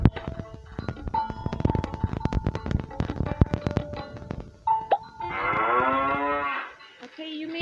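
A cow moos in a video game savannah map, a long loud low call sounding alone after a stretch of sharp clicking and game noises.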